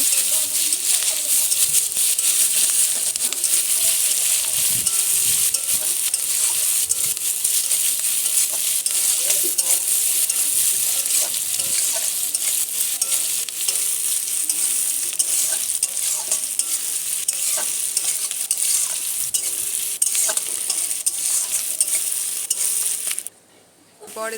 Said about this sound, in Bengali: তারপরে দিলাম পেঁয়াজ। ভালো করে নেড়ে নেব।